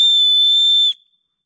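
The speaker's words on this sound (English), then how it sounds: "why they decided to put the whistle on the back of this" A whistle built into the handle of a survival shovel blown in one long, loud, steady shrill blast of nearly a second, then cut off sharply into silence.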